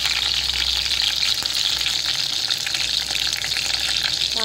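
Curry leaves sizzle in hot oil with plenty of garlic for a Surmai fish curry, a loud, dense, steady hiss up close with no one talking.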